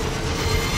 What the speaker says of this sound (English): Tram's here.